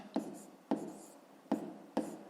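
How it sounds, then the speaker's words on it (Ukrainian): Pen writing on paper during a fifth-grade maths exercise, four short scratchy strokes at a steady rhythm, close and fairly quiet, with no talk. "Ну що ж, тоді пишемо"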